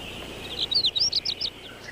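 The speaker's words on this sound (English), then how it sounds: "Shrike. White-eye." Shrike and white-eye calling in a misty rift-valley forest by the Red Sea: a quick series of six or seven sharp, high chirps, fairly close, over a steady background of insect-like hiss.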